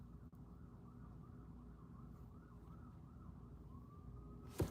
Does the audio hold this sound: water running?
no